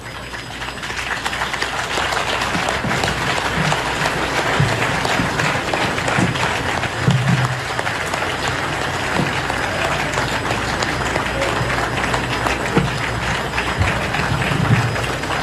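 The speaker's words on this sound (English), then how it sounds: "je demanderai au public ici présent de se lever et d'applaudir très fort" A large crowd in a stadium at an Under-17 football match, Cameroon versus Côte d'Ivoire, applauding loudly and continuously, with dense clapping that holds steady throughout and no speech.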